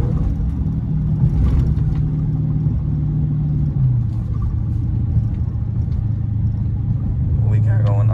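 A Dodge SRT 392 rumbles deeply while driving through a neighborhood, its low engine drone steady with slight shifts in pitch, as someone talks over it from inside the car.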